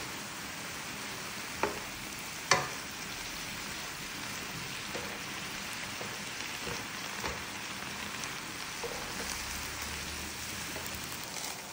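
A steady sizzle of noodles and sauce being stirred in a hot pan with soy oil, a constant hiss with a couple of sharp utensil knocks near the start.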